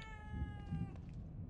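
A cat meows in the video game The Evil Within 2, a single drawn-out meow, near and clear, over a low ambient game background.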